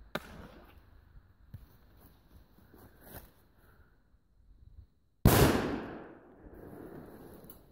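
An airsoft GR2 ball grenade loaded with a firecracker bursts in one sharp, loud bang partway through, then a decaying rattle, after quieter scattered outdoor noises.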